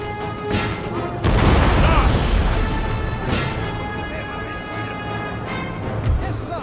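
Artillery battery firing cannons in the Napoleon Total War game: a heavy booming blast followed by rumbling battlefield noise, with a few more distant thuds and in-game voices speaking over it.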